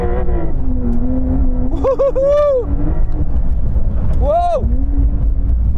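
A Porsche 911 Dakar accelerating on mud, its engine droning close and steady and rising in pitch in two swelling surges, with a person exclaiming over it.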